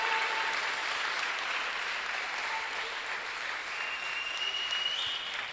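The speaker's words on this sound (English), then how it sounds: "Can we give them a big round of applause" A concert audience at a symposium opera concert in Kimberley, Northern Cape gives a big round of applause, a sustained, even roar of many hands filling the hall from start to finish with no speech over it.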